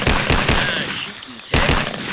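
A Thompson submachine gun fired in single-shot mode in the Vietnam War game Vietcong: several loud, separate shots in quick succession, then a pause and another sharp crack.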